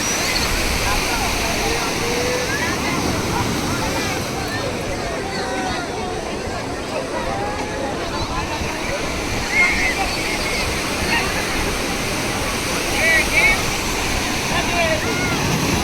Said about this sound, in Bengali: আর ঢেউটা দেখুন কীরকম